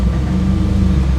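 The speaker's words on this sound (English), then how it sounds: "That is a Coyote motor." A Gen 3 Ford Coyote V8 swapped into a 1972 Ford Bronco runs with a steady, loud, close low-pitched hum and rumble, briefly and with no voices.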